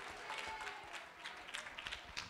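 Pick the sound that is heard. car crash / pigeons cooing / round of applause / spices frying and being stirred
round of applause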